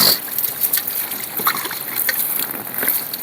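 Water poured from a container into a pipe buried in the ground, a steady splashing gurgle lasting about three seconds with no talk over it.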